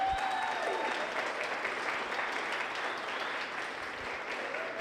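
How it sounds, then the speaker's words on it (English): Steady audience applause at an Oklahoma Czech-Slovak royalty pageant, a broad, even wash of clapping from a crowd holding at a moderate level throughout without voices. "So if we could please hear a big round of applause for Miss Debbie Kessler."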